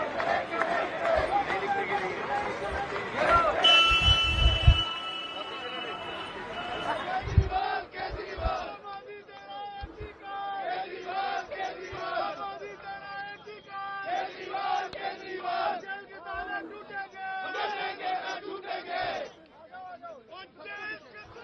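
Aam Aadmi Party workers gathered outside Tihar Jail shout and chant in a loud, rhythmic crowd, their repeated slogan bursts rising and falling over a long stretch amid general chatter.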